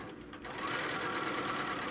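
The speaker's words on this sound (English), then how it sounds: "And we're going to sew in down the middle." A sewing machine runs steadily, stitching a seam down the middle of a quilt, with a continuous close whir that picks up after a brief softer start.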